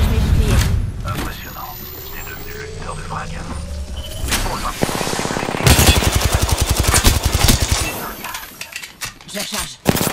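Automatic weapon fire from Apex Legends Season 6 gameplay, with rapid bursts of shots, loudest around the middle and continuing in a dense stream, over game ambience and voice callouts.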